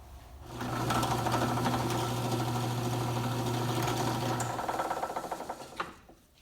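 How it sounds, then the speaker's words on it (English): A trimmer on a wood lathe cuts a wooden Christmas tree ornament down even with its sleeve, giving a loud, steady whirring buzz with a low hum that runs for several seconds before spinning down into a few rattling taps. "There you can see how the trimmer will trim the wood down to the sleeve"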